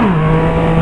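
Yamaha MT-09 motorcycle accelerating, a loud, close engine note that holds a steady pitch after a brief initial dip, with no one talking.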